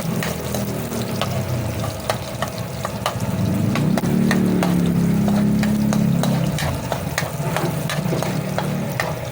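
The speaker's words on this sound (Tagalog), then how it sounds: "Pag-brownin natin yung ating bawang." Garlic browning in a pan gives a continuous loud sizzle and frying crackle, with a utensil stirring and scraping throughout, close up and with no talking.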